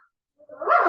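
A single dog bark rises abruptly out of silence, close and fairly loud, in a quiet room set aside for sitting meditation.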